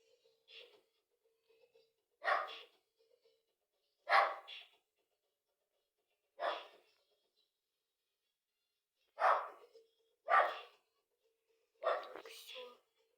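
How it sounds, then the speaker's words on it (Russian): A dog barks repeatedly in an apartment building stairwell, heard indoors from some distance as sharp, muffled single and double barks separated by silent gaps. "вот и собака лает"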